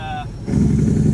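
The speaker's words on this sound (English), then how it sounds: "we're driving through town now" A pipe-hauling truck rolls through an Alaskan town on a cold, slick day, its heavy engine rumbling low and steady, swelling louder after a brief softer moment, with a voice briefly heard over it.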